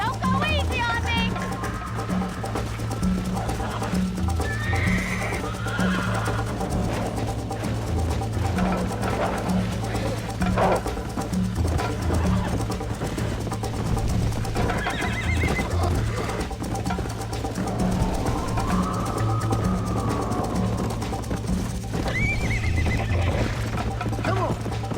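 Horse in the Red Dead Redemption video game neighs and whinnies repeatedly while hooves clip-clop at a steady gallop, with game music and ambience underneath throughout.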